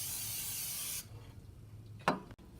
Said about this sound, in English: Make sure to spray your cooking pan over the sink so that you don't get any spray on the floor.